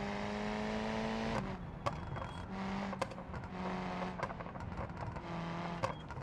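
Car engine in the BeamNG driving game racing on a course, a steady droning whine with shifting pitch and small sharp knocks scattered throughout, loud and continuous with no voice.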